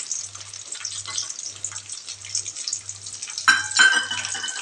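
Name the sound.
cashews frying in a pan for pongal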